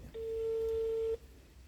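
A phone call goes out with a single steady calling tone that lasts about a second, clear and moderately quiet over faint room hiss before it cuts off.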